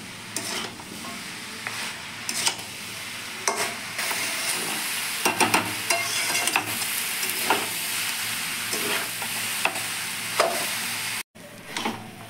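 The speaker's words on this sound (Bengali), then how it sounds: "এবার ভালো করে নাড়াচাড়া করে নেব, না হলে নিচে লেগে যেতে পারে।" Cabbage with a katla fish head frying in a pan over a raised gas flame, with a steady sizzle broken by frequent scraping, clattering stirs of a utensil against the pan.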